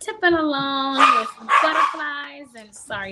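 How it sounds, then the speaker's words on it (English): A dog barks and whines indoors, with loud, tonal, drawn-out cries repeating over a few seconds, partly under someone speaking at a children's author evening talk. "excuse my dog"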